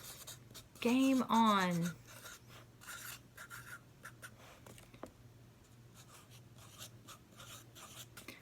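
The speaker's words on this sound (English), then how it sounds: "on my bat I'm gonna write VBS" Pen or marker writing on a small craft bat, soft scratchy rubbing strokes heard close, faint and intermittent, following a brief spoken phrase.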